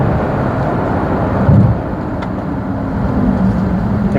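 A Chrysler 300C diesel pulls away from a standstill, a low engine drone building under heavy road and wind noise, heard from inside the car with no talking.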